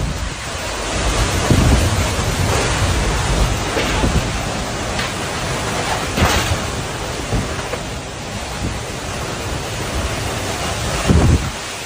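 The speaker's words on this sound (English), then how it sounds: "a super intense tornado went past this guy's house in Illinois" A heavy storm from a violent tornado passing a house in Illinois roars steadily with wind and rain, broken by occasional loud gusts and rumbling bursts, no voices.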